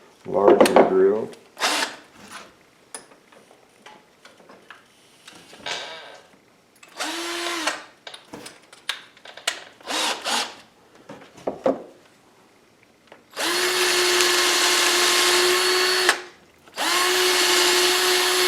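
A power drill drilling wood whirs in short bursts between quiet handling noises, then runs in two long, loud, steady stretches near the listener.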